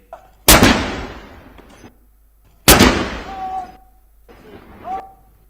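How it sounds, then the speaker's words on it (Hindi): Ceremonial cannon gun salute in Britain: three loud, sharp booming blasts spaced about two seconds apart, each followed by a rolling decay, with no talking. "ब्रिटेन की परंपरा के मुताबिक तोपों की सलामी दी गई"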